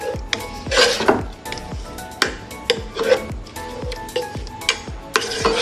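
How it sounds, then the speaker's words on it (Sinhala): Sweet syrup for aggala, a Sri Lankan rice-flour sweet, stirred in a metal pan with a spoon, giving repeated close scraping clacks over a soft sizzling bubble, with no voices. "හොඳට මේක නටනකම් කලවම් කරන්න."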